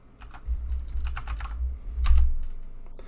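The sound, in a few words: typing a username on a computer keyboard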